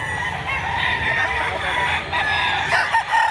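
Several roosters crow over a steady background of clucking fowl and crowd murmur at a busy Tuesday gamefowl market in Padre Garcia, Batangas, with calls overlapping continuously throughout.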